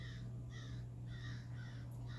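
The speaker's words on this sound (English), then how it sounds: "those crows are like, they keep fooling me. I know that they're coming from my tablet screen" Crows caw in rhythmic bursts of about four calls, played back from a tablet screen over a steady low electrical hum.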